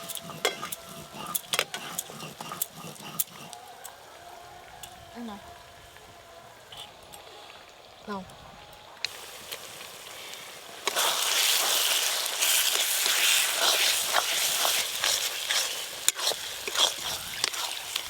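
Masala spice paste with dried chillies and ground coriander-cumin frying in a pan for a mutton curry, with scraping stirs and clinks under soft talk, then a louder sustained sizzle.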